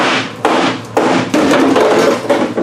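Several heavy hammer blows strike a Buick's car frame, clustered impacts ringing out loudly and close by as the metal is dimpled in a shop.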